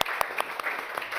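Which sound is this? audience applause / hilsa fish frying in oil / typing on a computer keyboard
audience applause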